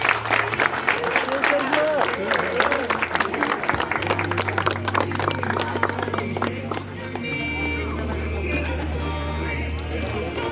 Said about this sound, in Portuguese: todo mundo aplaudindo a Jesus